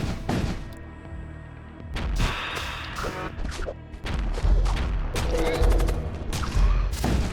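Rapid bolt fire from the video game Void War, with a plague marine build, rattling in dense bursts of close, loud gunfire and impacts that run almost continuously with brief gaps.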